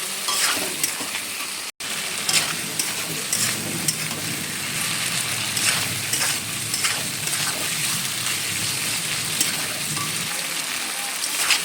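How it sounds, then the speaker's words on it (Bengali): A coriander and cumin paste sizzles loudly in a pan for a vegetarian soybean and potato curry, with crackling spatters and repeated stirring scrapes over about twelve seconds. No one speaks. "ধনে বাটা আর জিরে বাটা মশলাটা দিয়ে এবার ভালো করে একটু কষিয়ে নেব"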